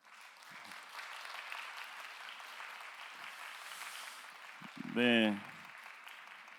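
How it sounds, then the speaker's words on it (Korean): A church congregation at a Sunday young adults' service applauds to welcome a new pastor, with steady moderate clapping throughout and a short spoken word near the end. "박수로 환영할까요?"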